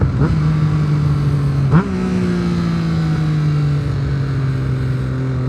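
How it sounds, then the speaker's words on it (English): A 2008 Triumph Street Triple 675 motorcycle fitted with an aftermarket exhaust drones loudly and steadily at a near-constant engine pitch, with a brief blip of throttle early on before settling into a smooth cruise. "This bike also has equipped an aero exhaust on it, so it sounds amazing."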